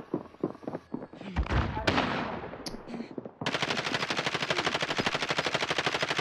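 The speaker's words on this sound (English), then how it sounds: "How is he shooting me from here?" Video game gunfire in Call of Duty Modern Warfare: scattered shots and impacts, then a long, loud, steady rapid burst of automatic machine-gun fire with even rhythm.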